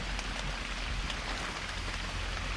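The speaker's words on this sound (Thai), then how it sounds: "ฝนตกอย่างหนักเลยครับ" Heavy rain pours steadily and loudly, a dense continuous hiss of drops beating on surfaces with no gaps and no voices.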